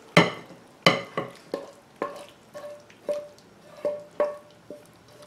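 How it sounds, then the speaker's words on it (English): Zucchini and cheese mixture is poured and scraped from a bowl into a butter-greased baking dish, giving a series of about nine soft, evenly spaced wet plops and clinks, close and fairly quiet, with no talking. "And then you're just going to pour it on in."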